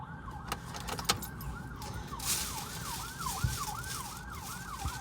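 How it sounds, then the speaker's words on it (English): An ambulance siren wails, rising and falling repeatedly at a steady pace, fairly close, over a background of traffic noise and passing cars. "Sounds like an ambulance."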